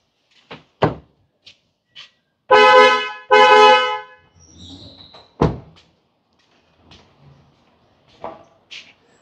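Two loud, back-to-back blasts from a dual MXR horn set fitted to a Toyota GRS Hilux, surrounded by scattered clunks and thuds in an otherwise quiet space.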